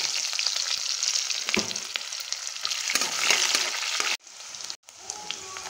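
Cumin seeds, chili, finely chopped garlic and sliced onion crackle and sizzle loudly in hot oil, with bursts of spattering and brief stirring scrapes, then a sudden short dip before the frying resumes.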